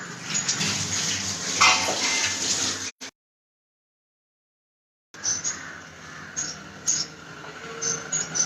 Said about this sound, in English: Let's give me a minute so I can wash my hands.